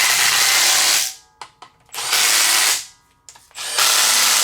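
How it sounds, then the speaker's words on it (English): A Milwaukee impact gun tightening bolts on an LS engine timing cover, three loud bursts of rapid hammering with short pauses and tool handling between them, close up with no talking. "This Milwaukee gun, a 1 is about 10-ish foot-pounds, a 2 is about 20 foot-pounds"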